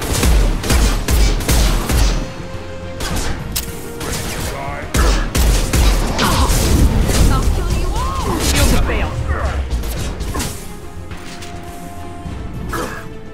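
Rapid gunfire and impacts in Mass Effect 2, bursts of shots, crashes and whooshes layered densely and loudly, with voices talking over the combat.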